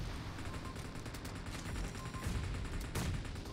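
Gunfire from the video game PUBG Mobile crackles in rapid bursts over a dense game soundscape, loud and close, with heavier blasts near the end and no voices.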